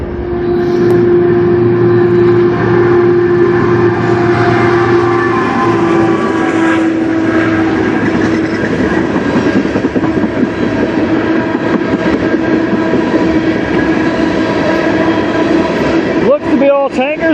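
A CN freight train made up mostly of tank cars, led by a hopper, rolls past in Strathroy near Sarnia, Ontario. It is loud and continuous, with a rumble, squealing wheel tones and rhythmic clatter that ends in sharp clanks.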